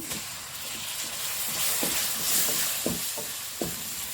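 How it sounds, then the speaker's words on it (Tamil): Tomatoes hit hot oil for a green mutton gravy, setting off a steady, loud hissing sizzle with a few scattered clicks from stirring. "இப்போ இதில் தக்காளி போட்டுடலாங்க."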